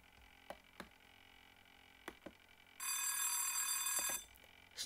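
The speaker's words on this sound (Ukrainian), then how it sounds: "Звук шкільного дзвіночка." An electric school bell rings in a rapid, bright burst lasting about a second and a half. It sounds faint and somewhat distant among a few quiet clicks and taps.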